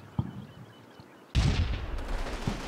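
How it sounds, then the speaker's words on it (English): A tank fires canister shot in the Combat Mission Fortress Italy war game, a sudden loud broadband blast at about 1.3 seconds that rolls on as sustained rumbling noise, after a quieter stretch with a faint thump. "One of the new pieces of equipment available are canister shots, essentially a shotgun round for tanks."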